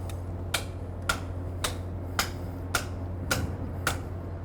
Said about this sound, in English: And then we'll do some final hammering.